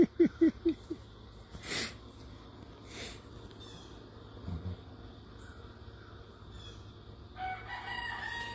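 Rooster crowing at sunrise, a rapid burst of loud close clucks at the start followed by quieter crowing calls and soft farmyard background.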